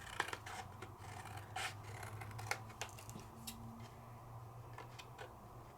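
Scissors make short, repeated snips through thin embossed craft film, the faint crisp cuts spaced irregularly and heard close against a quiet room hum.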